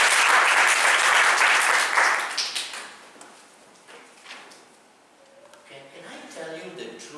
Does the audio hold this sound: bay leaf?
no